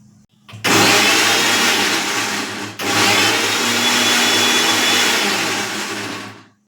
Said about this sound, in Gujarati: તે મિક્સર જારમાં એડ કરી અને તેની પેસ્ટ તૈયાર કરી લેશું